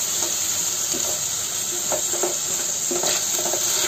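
Spice masala fries with spinach in a home kitchen pan, a steady sizzle running throughout with soft stirring scrapes and clinks at irregular intervals.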